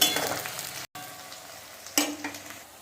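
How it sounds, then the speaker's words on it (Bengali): Ingredients fry in oil in a pan ahead of chicken for a Bengali chicken pulao, giving a close, low, steady sizzle with a few stirring scrapes, cut by a momentary dropout. "এগুলোকে একটু ভালো করে ভেজে নিয়ে তারপর আমি এর মধ্যে দিয়ে দেবো চিকেন"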